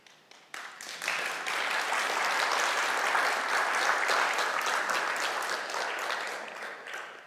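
An audience at a motivational compassion talk breaks into applause for a man on stage, a dense, steady clapping that starts sharply, holds at full strength for several seconds, then slowly thins and fades.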